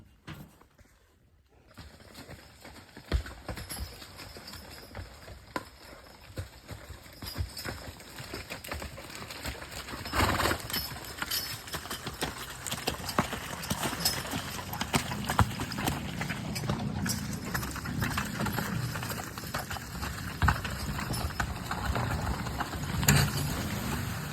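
A logging horse pulls a load on its first day of work, hooves clip-clopping in an irregular, steady plod close by, with light background noise and no talk.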